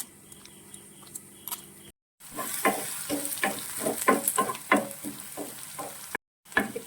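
Dried kondattam chillies sautéing in hot oil in a pan, a steady close sizzle with crackling pops and a few stirring scrapes, broken by two brief silent gaps.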